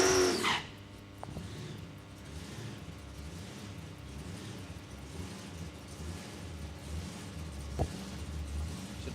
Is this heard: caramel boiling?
no